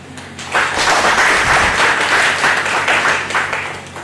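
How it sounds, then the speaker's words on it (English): Audience applauding panelists at the close of a conference session, a swelling round of clapping that rises quickly, stays full and close for several seconds, then begins to thin. "Let us give them a big round of applause"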